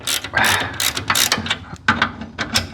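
A ratchet wrench tightens the front shock bolts on a 1961 Chevrolet Corvair Rampside, rapid loud clicking bursts in quick succession, close up.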